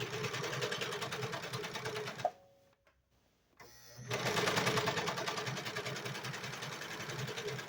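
Old serger stitching hemp cloth for a fitted diaper, a fast, dense mechanical chatter that stops for about a second and a half with a faint click, then starts again, steady and close.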